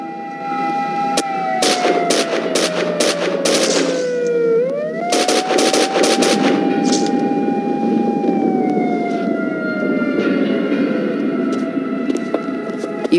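Police gunfire and chaotic action in the video game Max Payne 2: bursts of sharp shots and clatter over a steady siren-like wail that bends downward and rises again, loud and continuous throughout.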